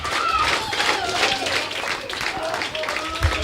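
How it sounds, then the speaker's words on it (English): A loud wrestling arena crowd cheers and applauds steadily throughout at a live WWE-style event, a dense roar of voices and clapping with scattered shouts and a brief thump near the end. "A very, very vocal crowd here tonight."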